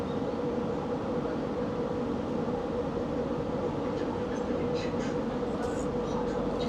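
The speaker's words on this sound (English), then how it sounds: "We've just had another train pull in beside us." Inside an intercity train to Guangzhou in China, a steady low rumble and hum fill the carriage as it starts to move while another train pulls in alongside, with faint clicks and squeaks near the end.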